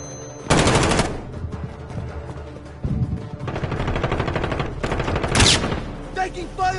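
Gunfire in a PS4 video game, with loud sustained bursts of automatic fire separated by brief pauses and a trailing rattle at the end, while a voice speaks intermittently underneath.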